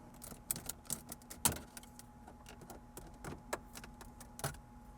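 A plastic pry bar works the climate control trim loose on a Porsche 996 interior, giving a quiet series of sharp plastic clicks and snaps at irregular intervals, close up, with one louder pop near the start.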